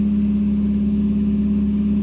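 A car engine, just fired up after being fixed, idles smoothly and steadily up close, a constant even hum with no talking.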